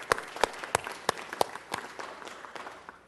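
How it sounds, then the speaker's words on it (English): Applause at a city council meeting: a few sharp, spaced hand claps stand out over a softer, scattered round of clapping that thins out toward the end. "let's give a round of applause"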